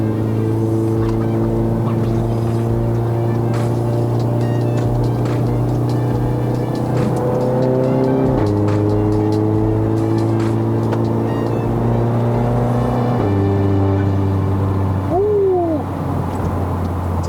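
A Stage 2 VW Golf R MK7 drones with a deep, steady engine note from inside the car while driving. The tone steps through gear changes, loud and continuous, with faint voices barely present beneath it.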